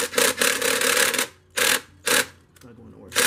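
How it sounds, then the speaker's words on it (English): A power drill runs in three or four bursts, tightening the hose clamps on a cold air intake being fitted to an Infiniti G37xs sedan, close and loud, with short pauses between the whirring runs. "So then you use that drill, right? Hit all the clamps."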